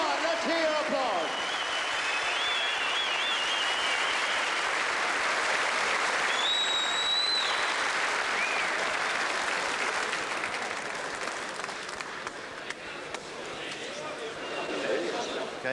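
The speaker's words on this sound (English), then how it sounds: "Come on, let's hear your applause." Audience applause in a boxing arena after a fighter is introduced in the ring, a steady dense clapping wash from a large crowd lasting throughout, loud and continuous with cheering mixed in.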